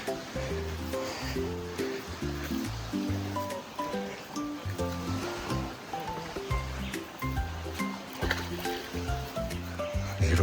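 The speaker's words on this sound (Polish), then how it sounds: "Czyli gdzieś źródło tu wypływa." Cold spring water wells up and flows at a lakeside spot ringed by mountains in Haiti, a steady rushing wash lasting throughout with music playing over it.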